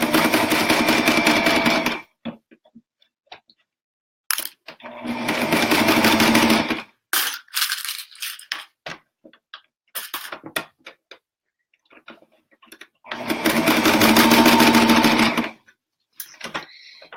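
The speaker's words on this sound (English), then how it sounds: "You're just sewing over the 2 layers." Sewing machine stitching through two layers of fabric for a slouchy toy sack, running in loud steady bursts of a few seconds each, with short stops, clicks and handling noises between runs.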